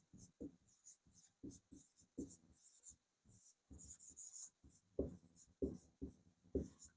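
Quiet, close pen strokes from notes being written out during a lesson on taal in Indian music, a series of short scratchy marks in an irregular rhythm with brief pauses between words.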